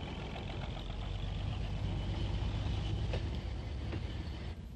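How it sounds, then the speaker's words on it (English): County Donegal narrow gauge railcar number 20 rumbles in steadily on the Killybegs line, a continuous close engine drone and rail clatter that eases off at the end. "railcar number 20 arrives from Killybegs"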